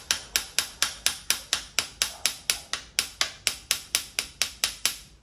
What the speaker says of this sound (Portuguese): Pode usar o martelinho, dar pequenas batidinhas.